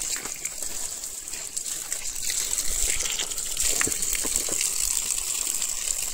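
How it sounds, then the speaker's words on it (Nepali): A stream of cold, fresh water gushes steadily from a spout, loud and close, a continuous rushing splash with a slight swell toward the end and no talking. "यहाँ चिसो पानीको धारा, एकदम फ्रेस वाटर नि।"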